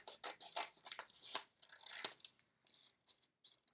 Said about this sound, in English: trying my best to cut nice and clean strips, making them nice and even.